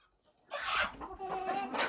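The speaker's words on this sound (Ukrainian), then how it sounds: "Курка вийшла." A farmyard hen clucks close by after a moment of near silence, a run of short, repeated clucks continuing steadily to the end with no voices over it.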